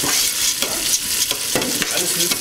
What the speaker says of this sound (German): Einfach ganz leicht, schön zart anbraten.